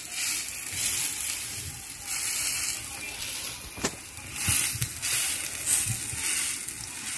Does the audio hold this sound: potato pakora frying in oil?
yes